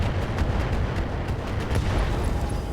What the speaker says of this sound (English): Gauss rifle explosion.